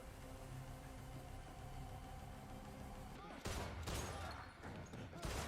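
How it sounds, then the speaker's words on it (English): Gunshots from a chase through old city tunnels in the horror film Malignant, a few sharp loud bursts arriving late after steady rumbling background noise, with voices faintly present. "Shaw misses Gabe with every shot and he gets away"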